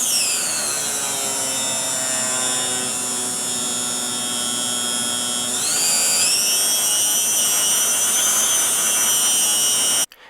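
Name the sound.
small electric motor running, chemical plant project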